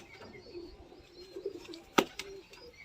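Pigeons kept by a racing-pigeon fancier coo softly in a low, murmuring run, with one sharp click or wing snap partway through.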